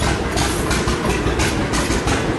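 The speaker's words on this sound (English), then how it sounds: "Old steam engine is coming right up here." An old steam engine at a show idles close by with a dense, loud, steady chugging rumble and regular pulses, with no talk over it.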